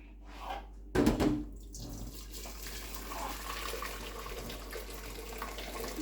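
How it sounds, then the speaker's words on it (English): Tap water pouring into a cooking pot in a home kitchen, starting with a brief loud splash and then settling into a steady, moderate rush of running water that continues to the end. "Put some water in this pot here."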